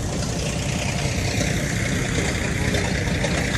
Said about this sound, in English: That's a Chevy engine on that car